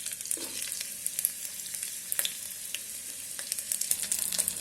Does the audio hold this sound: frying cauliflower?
yes